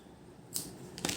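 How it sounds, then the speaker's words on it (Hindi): Scissors snip through crochet thread during a butterfly crochet project, two quick close cuts sounding in an otherwise quiet room. "ऐसे फिर धागे को काट देंगे।"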